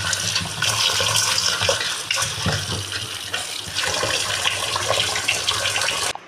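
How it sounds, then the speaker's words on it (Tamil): Water being poured over rice and lentils that had soaked for six hours, a continuous splashing gush lasting several seconds as they are rinsed, fairly loud and close and free of speech. "இப்போ வந்து நம்ம தண்ணி ஊற்றி அலசி எடுத்துக்கலாம்."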